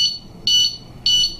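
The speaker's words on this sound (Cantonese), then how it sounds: "佢俾第一次嘅警報聲你通知。" An alarm padlock gives its first warning: three short, shrill electronic beeps in a steady rhythm, loud and close, with no voices.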